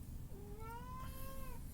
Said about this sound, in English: If you hear meowing, a crazy meowing, it's my cat playing with one of his toys